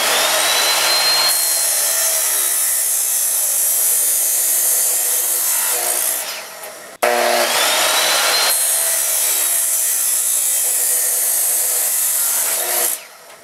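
A power saw cuts metal box tubing for the upright supports of a racing mower rebuild, in two long, loud, steady grinding passes of about six seconds each, the second starting right after a brief drop, with no voices.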